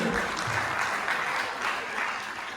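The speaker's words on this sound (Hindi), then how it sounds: "ताली बजाइए।" Audience at a Hindi poetry gathering in Abu Dhabi clapping steadily, a dense, even wash of applause that holds at a constant level throughout.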